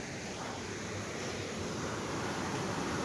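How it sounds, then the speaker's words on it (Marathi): A waterfall flowing somewhere below during rain, heard as a dense, steady rushing roar mixed with wind buffeting, constant and unbroken throughout the short stretch. "इथे खाली धबधबा आहे"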